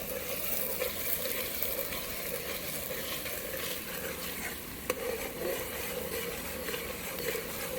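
Onion sizzles loudly in hot oil for a tempering on a farm, a continuous close crackling hiss with occasional stirring scrapes and no speech.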